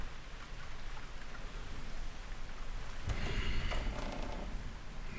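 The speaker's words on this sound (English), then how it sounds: "Will this goddamn rain ever let up?" Heavy rain falls steadily in a dense, continuous hiss, with a louder surge and a possible low rumble of thunder partway through, and no voices.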